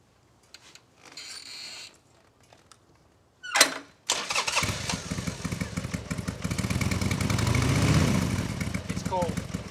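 A cold Harley-Davidson Sportster with its stock exhaust is started up. After a quiet stretch with a little talk, a sharp starter burst at about four seconds gives way to a throbbing motorcycle rumble that keeps going.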